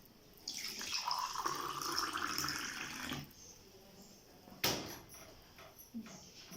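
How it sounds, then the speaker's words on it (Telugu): Water is poured into a container of chopped cucumber for a summer juice, a close splashing pour lasting about three seconds, followed by a sharp clink and a few small knocks. "నీళ్లు కలుపుతున్నాను"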